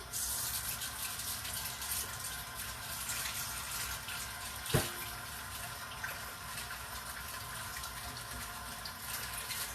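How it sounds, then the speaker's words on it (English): Tap water running steadily into a kitchen sink, a continuous broad rushing hiss that holds level throughout, with one brief knock near the middle. "I'll let that fill with water."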